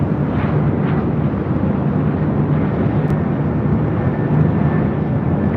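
An airliner lands on runway 24 left at LAX, its engines making a steady, loud, broadband roar that holds evenly throughout with no voices.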